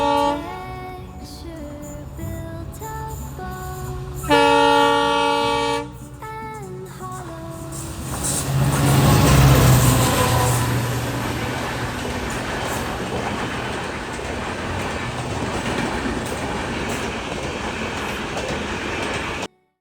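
A train passes by in Goa during the monsoon: a tonal horn blares early, then the rumble and clatter of wagons builds loud and close before settling into a steady rolling noise.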